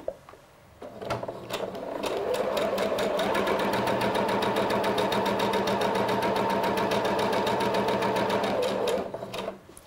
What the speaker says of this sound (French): on va faire une couture, pardon, comme préconisé par la machine. Alors, je prends un point droit